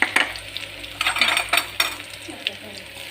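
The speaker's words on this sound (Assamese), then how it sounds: "তেল এতিয়া যিহেতু গৰম হৈ গৈছে, এতিয়া মই দিম অলপ আদা নহৰু পেষ্ট আগতীয়াকৈ কৰি ৰেডি কৰি ৰাখিছিলোঁ।" Ginger garlic paste hits hot oil in a pan, giving a steady close sizzle with scraping stirs and a few light clinks of a utensil against the pan.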